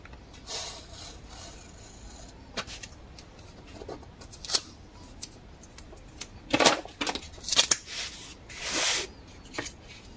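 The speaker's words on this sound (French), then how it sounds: "je peux placer donc ici mon guide d'angle et couper mes angles" A corner guide is set on an album cover and its corners are trimmed off, giving a handful of sharp snips and clicks spread irregularly, close and crisp, with soft rustling between cuts and no talk.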